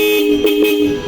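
A Blaupunkt D91 horn fitted to a Yamaha Aerox V3 standard scooter sounds one steady, loud, close blast lasting about a second.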